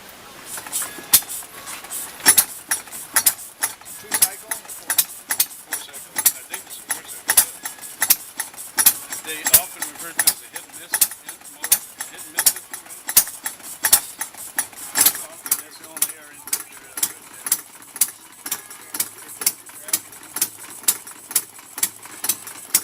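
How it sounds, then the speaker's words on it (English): An early single-cylinder gasoline engine of under one horsepower, Ford's first combustion experiment, chuffs with steady rapid firing pulses and clattering mechanical ticks, running alone and close. "This single-cylinder gasoline engine, producing less than 1 horsepower, marks Ford's first combustion experiment."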